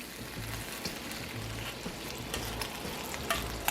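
Bacon sizzles and crackles steadily in a cast iron skillet for a burger, a close, continuous frying hiss with scattered pops and a low rhythmic hum underneath.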